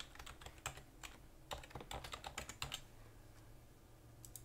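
A username and password go in on a computer keyboard, heard as quick close key clicks in short irregular runs. The typing stops for a moment and then ends with a few final taps.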